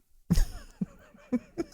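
Several harsh coughs come close into a microphone during a podcast sign-off, one heavy burst followed by three shorter, sharper coughs spaced across under two seconds, with no talking.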